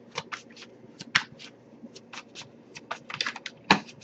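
A tarot card deck is shuffled by hand in a steady patter of soft card slaps and riffles, with a few sharper taps, close up and with no talking.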